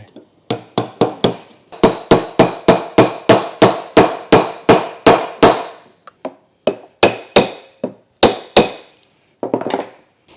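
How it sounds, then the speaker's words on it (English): A soft-faced hammer strikes steering parts on a BMW E30 to tighten them: about twenty sharp, close blows in quick, steady runs, broken by short pauses. "to use the soft tool and hammer to tighten these"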